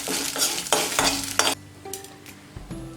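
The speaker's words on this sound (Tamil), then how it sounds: "இப்போ எல்லாத்தையும் ஒன்றா கலந்துட்டு இப்போ இது நம்ம எடுத்துடலாம்" Fried eggplant mixture with asafoetida stirred in hot oil, with loud, repeated scraping strokes over a sizzling fry that fades to quieter clinks and hiss toward the end.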